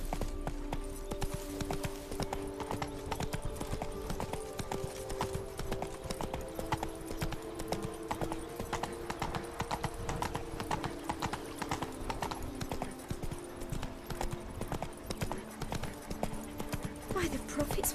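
Horse hooves clip-clop in The Witcher 3, a steady rhythmic trot that continues throughout at close range, with brief voices over it.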